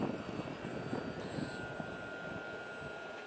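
An RC model airplane in flight, weighing over 40 ounces with 28 ounces of thrust, its motor giving a steady whining drone with tonal whistles, fairly close and continuous throughout.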